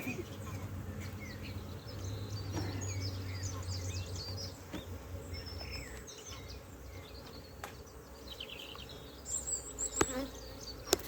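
A dense swarm of honeybees hums continuously around an open beehive during an inspection, close and steady, with faint bird chirps far off and some handling knocks near the end.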